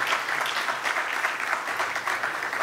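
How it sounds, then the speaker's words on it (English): Audience applause for Kultur Projekte at an integration initiatives session, a steady wash of many hands clapping at moderate loudness for the whole stretch, with no voices over it. "Please, will you join me in a hearty round of applause for Kultur Projekte?"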